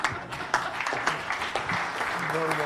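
An audience at a city council meeting claps for a child reader, scattered individual claps at moderate distance mixed with murmured voices and a short tonal sound near the end.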